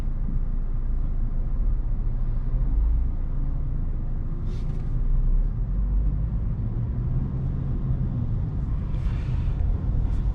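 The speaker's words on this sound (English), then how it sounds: "A lot of traffic right now." Steady low road rumble and tyre noise heard from inside a 2023 Kia Sportage X-Line AWD in traffic, continuous and fairly loud, with a couple of brief hissing passes from nearby vehicles and no talking.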